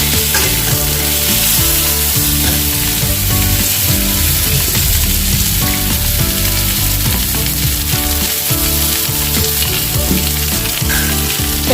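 Raw green mango and sweet potato being stirred and fried in a pan, a steady broadband sizzle with scraping stir strokes running loud and continuous over a music bed, no voice.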